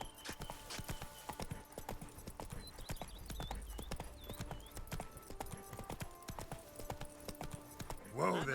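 Horse hooves clip-clop at a steady walking rhythm in The Witcher video game, with bird-like chirps and game ambience around them and a brief neigh near the end.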